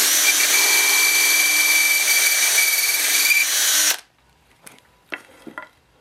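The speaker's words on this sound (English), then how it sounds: "Drill all the way through." A power drill whines loudly and steadily for about four seconds as it drills all the way through wood, then stops abruptly, followed by a few faint clicks and handling noises.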